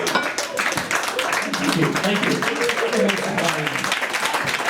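An audience at a comedy show claps in a scattered burst while the comedian's voice speaks over it, the clapping fading gradually.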